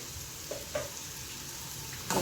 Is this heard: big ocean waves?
no